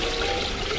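Water pours into a basin used for breeding goldfish, a brief, steady wash of liquid with a slight rise at the end.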